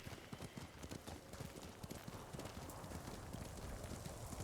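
Horse hooves clip-clop in Ghost of Tsushima, a steady brisk gallop of rapid hoofbeats continuing throughout, faint overall but dense and rhythmic, with no talk.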